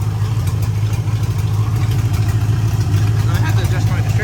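A demolition derby car's engine idles steadily after a cold start, a loud, continuous low rumble with a slightly uneven pulse, while people talk over it nearby.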